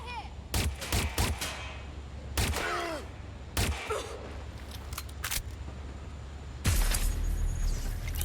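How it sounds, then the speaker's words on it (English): Gunfire in the video game Watch Dogs Legion: several loud, sharp shots and bursts spread through a tense firefight, with a voice speaking briefly between them. "I'm taking fire here!"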